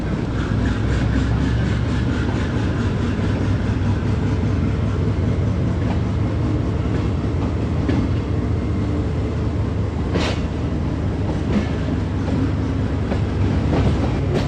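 The Karachi Express pulls slowly out of Raiwind Junction, hauled by a Blue Tiger AGE30 locomotive. Steady rolling rumble and clatter of the railcars runs throughout, with a couple of brief metallic squeals.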